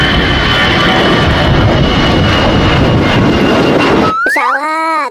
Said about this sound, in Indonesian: Wah, ada pesawat tuh.